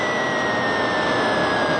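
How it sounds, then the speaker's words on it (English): Simulated jet engine roar from a carrier-landing NES video game, played with a Power Glove: a steady, loud broadband rush with a thin high whine held throughout, no voices. "it's your job to land your jet on the deck of the big carrier"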